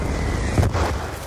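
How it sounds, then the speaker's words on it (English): A burst of heavy missile-strike explosions in a combat video game, a dense booming rumble peaking mid-clip over a continuous low roar, with no speech. "Friendly Hellstorm missile inbound."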